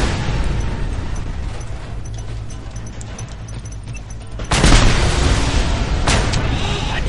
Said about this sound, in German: immer explodiert alles hinter mir.